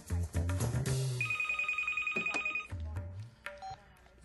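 A telephone bell rings in a steady trilling burst lasting over a second, set in a busy room with other clatter and movement, fairly faint.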